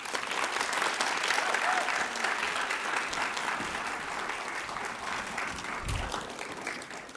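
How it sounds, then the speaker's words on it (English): Steady applause from a graduation ceremony audience fills the whole stretch, dense and even, holding at a constant level throughout. "Let's give Lexi another round of applause."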